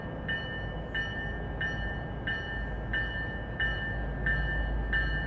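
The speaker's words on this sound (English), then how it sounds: "Train approaching. Please remain behind the yellow line." A train approaches Route 128 Station under a steady low rumble, while a bright warning beep repeats about every two-thirds of a second throughout.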